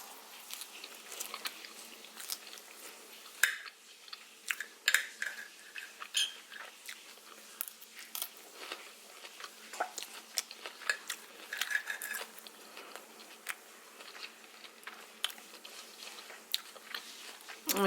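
Close, wet chewing and biting on muffin-pan meatloaf made with parmesan cheese and no breadcrumbs, with irregular soft crunches and mouth clicks repeating steadily throughout, no talking.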